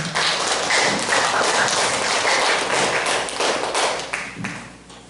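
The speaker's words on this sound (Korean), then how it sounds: "큰 박수로 맞아주시기 바랍니다." An audience claps to welcome a lecturer to a class, dense clapping that stays loud for several seconds and then fades out toward the end.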